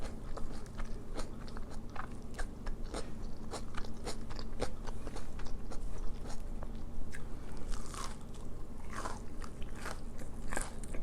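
A crunchy battered onion ring is bitten and chewed close up, with repeated sharp crackling crunches in an irregular rhythm over a soft, steady background, no talking.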